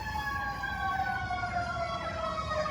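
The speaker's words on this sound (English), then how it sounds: "I'm gonna let this ambulance truck pass, obviously. Ambulance, fire truck." Ambulance siren on a city street, a loud steady wailing tone with bright layered harmonics, sliding gradually lower as the vehicle passes, over a rumble of traffic.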